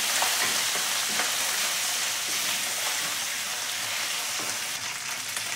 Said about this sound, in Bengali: আদা রসুনের কাঁচা গন্ধটা যাওয়া পর্যন্ত এটাকে একটু ভালো করে কষে নেব।